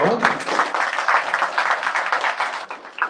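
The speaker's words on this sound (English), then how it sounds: "Let's give them a round of applause as well." Audience applause at a live chamber music event, a dense wash of clapping sustained for about three seconds and fading slightly at the end.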